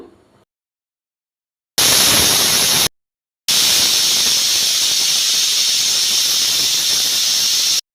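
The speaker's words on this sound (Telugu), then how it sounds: "ఇలా కుక్కరు స్టీమ్ అంతా తీసి స్టీమ్ అంతా పోయాక" Loud, harsh hiss of a pressure cooker cooking tomato rice, venting steam in two bursts, a short one then a long continuous blast, with no talking.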